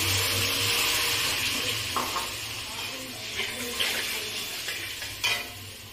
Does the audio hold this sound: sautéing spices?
yes